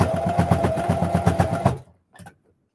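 A sewing machine stitches a fabric wallet in a loud, rapid, even rhythmic whir for nearly two seconds, stops abruptly, then gives one short final burst.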